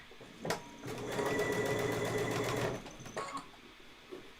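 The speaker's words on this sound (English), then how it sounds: "So I'm going to sew with, this foot has 2 grooves." A sewing machine with a two-groove presser foot stitches fabric, a close, steady mechanical whirring run of about a second and a half between brief clicks and handling noises, with no talking.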